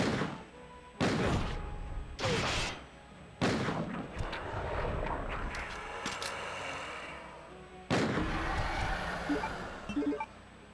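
Gunshots from Leon's weapon during a boss fight in the 1998 Resident Evil 2 game, several loud booming blasts spaced a second or more apart, each trailing into echo, with game music running underneath.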